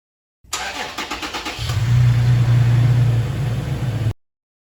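A car engine is started by a newly installed remote start: a few seconds of rapid starter cranking, then the engine catches and settles into a loud, steady idle hum, close and alone, before cutting off.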